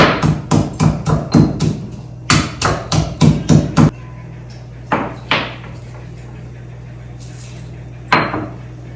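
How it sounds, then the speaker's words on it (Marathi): Garlic cloves pounded with a hard tool in a home kitchen during chutney prep, a quick run of about fifteen sharp, loud knocks in steady rhythm, then a pause broken by a few isolated thuds. "लसूण ठेचून घेतलेला आहे"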